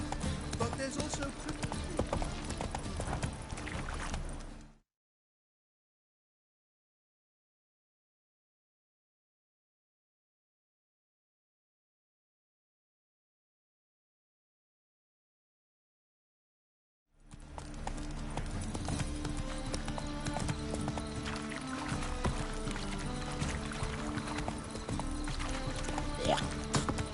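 Horse hooves clip-clop at a steady trot through The Witcher 3, loud and continuous with game sounds and voices, then cut to silence for about twelve seconds before the trotting resumes.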